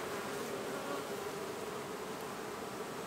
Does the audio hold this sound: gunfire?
no